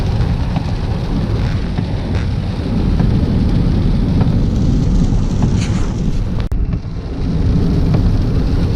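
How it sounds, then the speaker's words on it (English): Steady heavy rain drumming on a car roof and windshield with a constant low road rumble, loud and continuous throughout. "We're out of the freezing rain. Now it's just rain."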